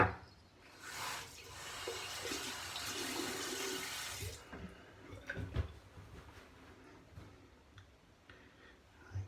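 Shaving soap rinsed off under a running tap, a soft rush of water for a few seconds, followed by quiet rubbing, clicks and light handling sounds at close range.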